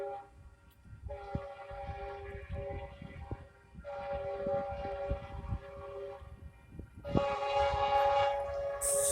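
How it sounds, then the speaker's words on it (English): A train horn blasts three long times, the last louder and closer, over the rumbling clatter of a passing train. "Let the train pass, let it pass."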